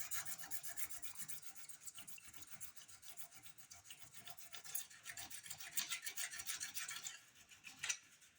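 A hand file scrapes epoxy off a guitar body, a close, quiet run of rapid rasping strokes with a rhythmic scratchy texture, getting a little more vigorous near the end, with no voices.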